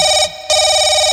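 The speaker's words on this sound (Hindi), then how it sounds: "फोन उठा देवान जी, शेखर, फोन उठा।" Telephone ringing during a live nautanki folk theatre show, a loud steady electronic ring that breaks off briefly and resumes.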